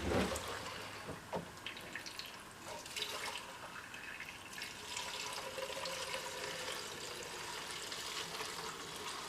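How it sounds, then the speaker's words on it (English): Premium fuel pours from a container into an old lawn mower's tank and spills over, a faint, continuous trickling splash with a few small knocks, close by and quiet, with no one talking. "This is premium fuel, and I just overflowed it like way too much."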